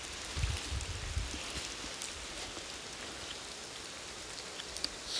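A downpour hammers the ground near a road tunnel in Kanagawa at night, a thick continuous wash of rain with a few low rumbling bumps early on and a sharp drip near the end.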